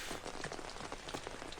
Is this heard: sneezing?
no